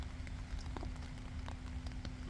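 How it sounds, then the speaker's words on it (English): Rain patters on a tarp over a night camp near a train track, a steady soft hiss with scattered drips, faint and continuous with no voices. "just been woken up by the sound of rain on the tarp"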